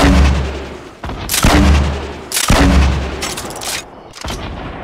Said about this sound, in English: I'm lobbing nades.